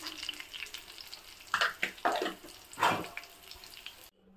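Curry leaves and turmeric fry in hot oil in a pan for tomato ginger pachadi, with a few sharp, close crackling spurts and splutters over a low steady sizzle before the sound cuts out.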